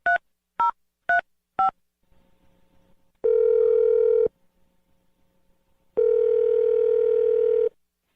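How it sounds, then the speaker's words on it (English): Four short dialing tones beep in quick succession while calling a number, followed by two long steady ringback tones separated by a pause. "So let's dial the number."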